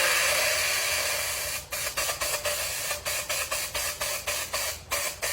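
Short bursts of water sprayed through an RC liquid mask sprayer to clear it, a steady hiss first, then about a dozen rapid rhythmic pulses of spray, close and with no voices.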